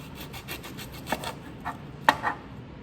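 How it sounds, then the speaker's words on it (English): A knife cuts through an onion on a board, a few scraping rubs and a couple of sharp, quiet chops spaced out over a few seconds, close and unaccompanied by talk. "I'm going to take one of my onions and I'm going to cut one side"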